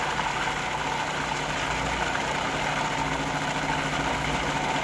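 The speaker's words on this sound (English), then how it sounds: "Just gonna puree this." A blender purees clam dip, a steady dense motor whir running evenly throughout, loud and close with no talking over it.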